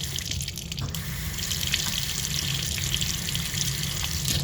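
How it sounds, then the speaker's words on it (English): Water running from a sensor-activated washroom faucet, a steady close hiss of splashing flow into the sink, continuous and alone. "can't you adjust the water here so you get more than a splash?"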